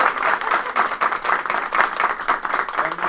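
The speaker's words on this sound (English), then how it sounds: "A round of applause." An audience at a school board meeting claps in a steady, moderately loud burst of applause, many hands blending into a continuous patter for a few seconds.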